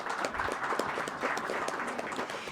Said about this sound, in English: how about we give them a round of applause for those that are in here today as counselors?